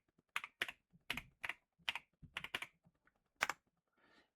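A username is typed on a computer keyboard in quick, close, distinct keystrokes with short pauses between clusters, alone in a quiet room.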